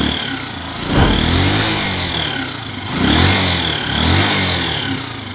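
Noisy Honda TMX155 motorcycle engine idling in neutral with a worn timing gear, a steady close mechanical clatter and whine that swells briefly three times as the throttle is blipped.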